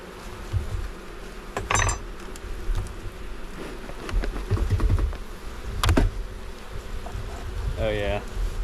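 A honey bee colony buzzes steadily and close during a hive inspection, with scattered knocks and clinks of hive parts. A short bit of speech comes near the end.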